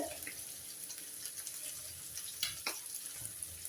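Dried fish frying in a pan, a soft steady sizzle with occasional light scrapes and pops, close but quiet.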